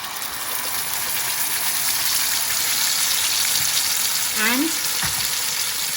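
Curry paste hits hot oil with broken cinnamon, a bay leaf and cumin seeds for a mushroom curry, a dense continuous crackling sizzle with a quick stirring scrape near the end; a single word is spoken briefly.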